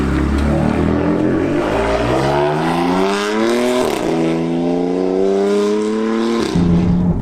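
A BMW M4, bought as a wrecked car, revs hard while driving on the road: a loud, continuous engine note climbs and settles through the gears, close and alone with no talking.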